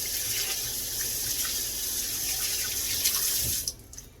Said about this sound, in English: Let me just go and rinse off my hands a little bit again because of the seasoning.